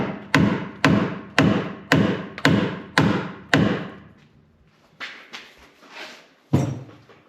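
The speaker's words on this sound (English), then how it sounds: "We had to beat the frame with a hammer" Hammer strikes on a 2017 GMC Sierra truck frame during a Rough Country six-inch lift install: seven heavy, evenly spaced metallic blows with ringing decay, then softer irregular taps and one final hard hit.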